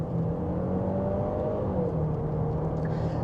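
A Genesis GV70 SUV accelerates, its engine rising in a steady whirring rumble with a climbing tone, heard from inside or close by on a UK road, alone without any talk.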